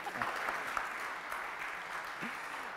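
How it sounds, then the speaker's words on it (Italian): An audience applauds at a conference on welfare and charity in Bologna, with steady, moderately distant clapping that fills the whole stretch and has no break. "Dovete applaudirla, se no non funziona."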